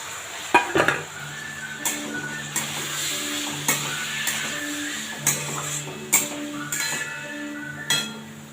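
Banana stem added to a frying pan of sizzling oil with green chillies, giving a steady close sizzle broken by a few sharp clinks and scrapes of a utensil against the pan.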